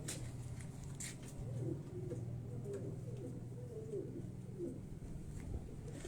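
Karachi high-flying pigeons coo in low, rolling phrases from a rooftop loft, steady and moderately close against a constant background hum, with no voices.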